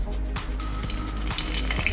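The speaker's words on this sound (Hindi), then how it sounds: "मैं इसमें डालूंगी तेज पत्ता" A bay leaf drops into hot oil in a pan, and a close, steady sizzle runs throughout with a few faint clicks.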